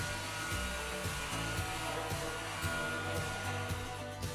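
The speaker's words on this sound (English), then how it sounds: "Now it's time to sand everything smooth with the RYOBI sander." A RYOBI power sander runs steadily on wood for a side table or knockdown stool, a continuous whirring motor hum with faint rhythmic pulses as the pad works the surface, close and fairly loud with no talking.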